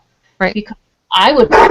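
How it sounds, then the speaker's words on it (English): A pet dog barks in a few sharp bursts close by, mixed in with a person talking. "Oh, pardon me. That's my dog."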